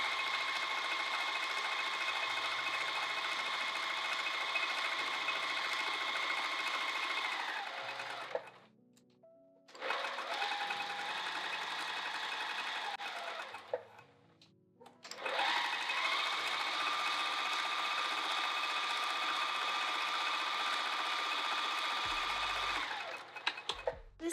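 A sewing machine stitches the side edges of a cover in three long continuous runs, a close high whirring drone that winds down at each stop, separated by short quiet pauses with faint handling noises.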